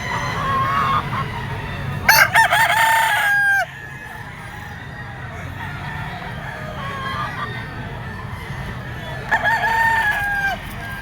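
A two-year-old yellow-legged talisay gamecock rooster crows loudly and close, two distinct crows several seconds apart over a background of clucking fowl and farmyard murmur.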